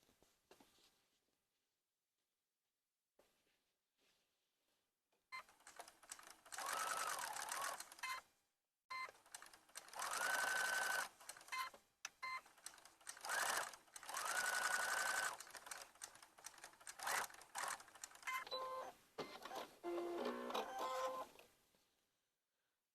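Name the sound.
sewing machine sewing an Easter basket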